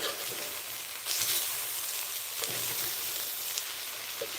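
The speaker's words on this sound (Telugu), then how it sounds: "చక్కగా వీటిని వేయించుకోవాలి కాసేపు రైస్ వేగనివ్వాలి ఈ తాలింపులో" Rice for khichdi fries in a tempering in a pan, giving a steady soft sizzle and hiss with a few louder bursts of crackle as it is stirred.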